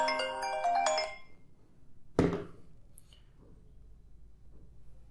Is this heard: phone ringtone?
yes